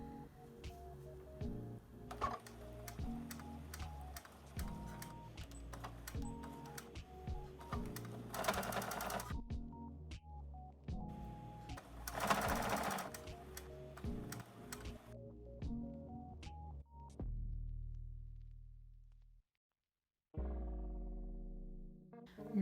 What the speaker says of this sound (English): sew a straight stitch with 5/8 of an inseam straight across